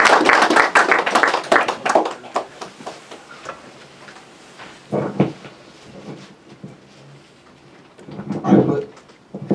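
Audience members clap at a history book launch event, a brisk burst of hand claps at the start that thins into a few scattered claps and taps. Someone speaks in between.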